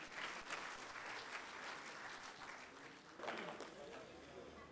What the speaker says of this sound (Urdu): ان کا بھی استقبال کیجیے اپنی تالیوں کے ساتھ